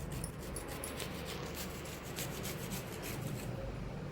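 Rapid scraping strokes of nutmeg rubbed against a small kitchen grater, repeated rasping pulses fairly close and soft, with no talking.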